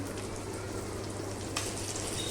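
Fiery green chillies frying in a pan at home, a steady, moderately loud sizzle and crackle with a brief brighter hiss near the end.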